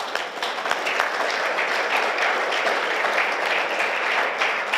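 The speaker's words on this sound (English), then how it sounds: "So I'm clapping for y'all." Steady applause from an audience at a community gathering at Cacapon Resort State Park, many hands clapping at an even, moderate level throughout with no voices on top.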